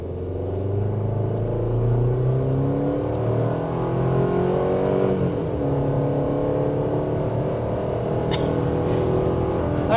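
A 2023 Chevy Colorado WT base-trim pickup accelerates hard from a standstill to 60 mph, its engine droning loud and steady with rising, shifting harmonics heard from inside the cabin, with a brief clatter near the end.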